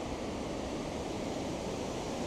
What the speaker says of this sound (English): You have this cool little waterfall, some stone buildings over there.